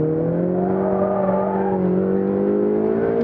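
A Ferrari 488 GTB holds a steady drift around the Fiorano circuit, its engine a sustained, even roar at high revs, loud and close without a break.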